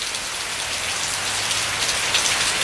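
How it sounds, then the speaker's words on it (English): Steady rain falls outdoors as a dense, loud, even hiss of drops hitting surfaces, continuous throughout with no voices. "Rain is what I'm dealing with today."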